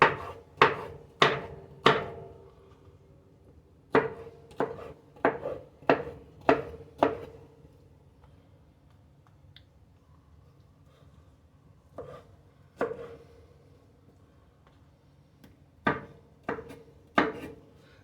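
A kitchen knife slices through a fresh pineapple on a cutting board in a series of sharp, close chops, first a quick run of cuts, then a pause, then more scattered strokes.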